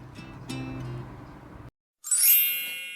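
A bright, ringing notification bell sound effect chimes once, loud and clear, after a short silence that follows a stretch of low background sound.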